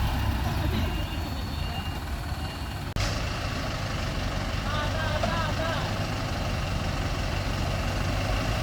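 An Isuzu truck engine idles with a loud, steady, continuous rumble, broken by one brief thump partway through.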